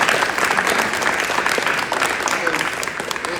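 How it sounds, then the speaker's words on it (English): An audience clapping in a gym, a steady wash of many hands at moderate loudness that slowly thins, with some voices mixed in. "Let's clap it up for them."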